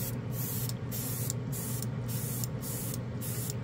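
A paint spray gun clears out its hose with repeated short, forceful hissing bursts, about seven in quick rhythmic succession, close and loud over a low steady hum, with no speech.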